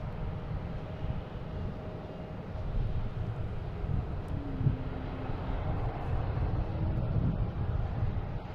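A WestJet Boeing 737 arriving from Calgary at Boston Logan gives off a soft, steady jet rumble with a faint rising tonal whine, distant and slightly wind-blown, no voices.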